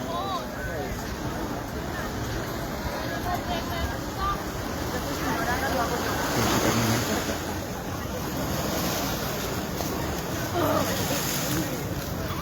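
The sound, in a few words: ocean waves crashing against the Waikiki wall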